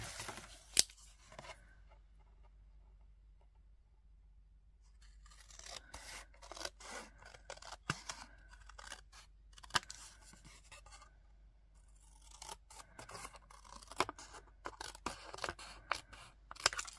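Scissors cutting paper for a handmade Mother's Day card, close and quiet: crisp snipping and crunchy cuts in irregular bursts, with a quiet stretch near the start before cutting resumes more rapidly.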